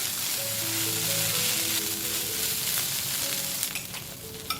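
Vegetable fried rice sizzles loudly in a pan with sweet chili sauce as it is stir fried, a dense steady crackle with faint clinks from stirring near the end and no talk.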